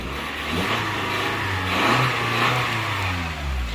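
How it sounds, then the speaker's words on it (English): A 2020 Toyota Camry engine revs from idle, rising in a smooth swell to a peak and settling back, a steady close mid-pitched drone with no talking. "So I'm going to give it a few revs just to see if it'll bring that alternator charge up a little."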